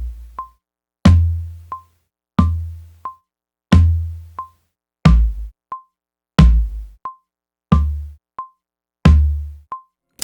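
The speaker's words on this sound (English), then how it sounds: "So what you just heard is 4 floor tom velocities followed by the same thing pitched down." Floor tom hits recorded through a Tascam cassette deck, later pitched down. The thumpy drum strikes come in a steady series of eight, each with a sharp attack and a short decay, and a brief high beep sits between the hits.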